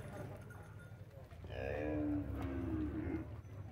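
Cattle at a livestock fair give a single drawn-out moo near the middle, rising and holding before trailing off, over a steady low crowd murmur and background noise.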